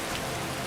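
Rain falling in the Dragonborn video game, a dense, even hiss of drops steady throughout a very short stretch with no voices.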